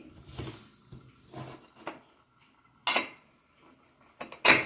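Several metallic clanks and scrapes of a pressure cooker lid being fitted and locked while cooking mutton gravy, ending in a sharp clatter.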